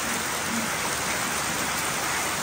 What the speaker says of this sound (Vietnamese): Giờ là 11 giờ đêm rồi á các bạn, mà nước mưa quá trời mưa rồi